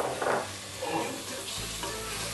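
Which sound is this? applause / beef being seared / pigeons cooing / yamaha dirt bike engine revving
beef being seared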